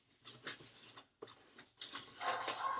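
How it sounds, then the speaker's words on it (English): A dog whimpers and whines softly in a quiet room where wool is being dyed, several faint breathy bursts separated by short pauses, with light rubbing noises alongside. "Excuse the dog again."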